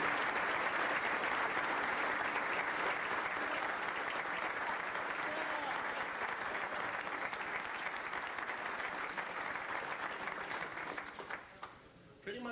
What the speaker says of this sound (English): so if you can give Bill a nice round of applause.